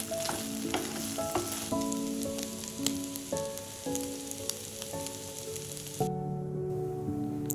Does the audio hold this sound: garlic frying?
yes